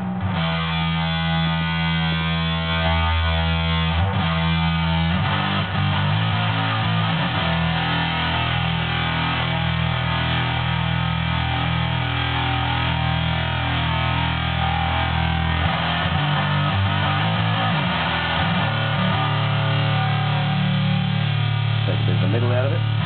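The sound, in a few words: guitar fuzz distortion from multi-effects pedal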